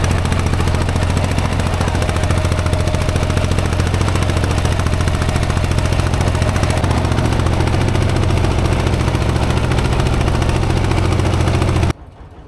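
Steady, loud chugging of a fishing boat's engine at sea off Cox's Bazar, a rapid even thump running close and unbroken for about twelve seconds before cutting off near the end.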